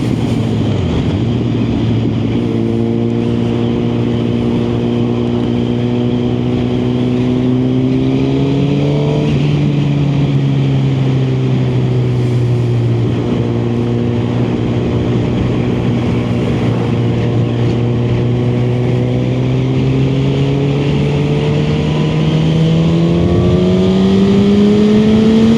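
Motorcycle setting off on a first ride of the 2025 season on new tyres, its engine droning steadily and close throughout, pitch rising and dipping through gear changes, with wind rush and no talk.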